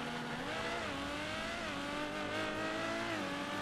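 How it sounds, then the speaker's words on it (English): A fast four-seater car accelerates in GTA, its engine revving and shifting through gears in rising and falling tones with a hint of tire squeal, alone and steady. "Jesus, that car is so fast."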